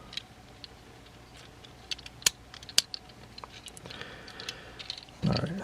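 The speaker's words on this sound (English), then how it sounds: "Plastic is just scraping on each other." Plastic parts of a Transformers Studio Series Cliffjumper figure give scattered small clicks and taps, a few sharper snaps, and faint scraping, all quiet and close.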